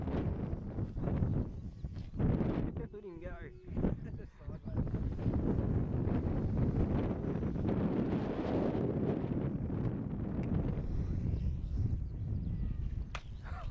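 Strong gusts buffet the microphone at a radio-controlled model plane flying field, a steady, loud roaring rumble that continues through the whole stretch with brief dips and faint voices underneath.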